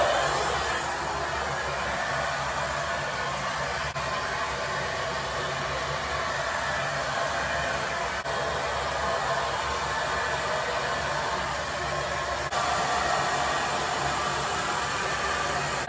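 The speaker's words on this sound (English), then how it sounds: "I'm just using a typical diffuser. It's by Paul Mitchell." A Paul Mitchell hair dryer fitted with a diffuser runs on its lowest setting, giving a steady, close, unbroken whoosh of blowing air that holds evenly for the whole stretch with no talking.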